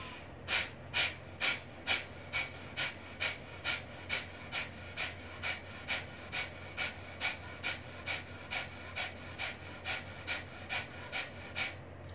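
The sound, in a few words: forceful exhalations in Kapalbhati breathing exercise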